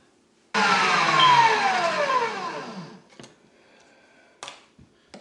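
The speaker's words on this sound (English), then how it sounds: "That little grinder works pretty good." An electric meat grinder grinding venison for sausage runs in one loud burst of about two and a half seconds that winds down in pitch, followed by a few faint clicks.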